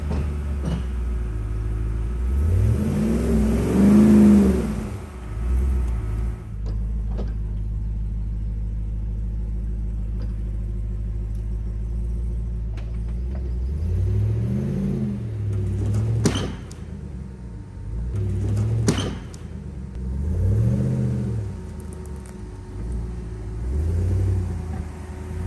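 An overland vehicle's engine rumbles low and steady, swelling several times as the throttle is applied while it frees itself after being winched out, close with no talking.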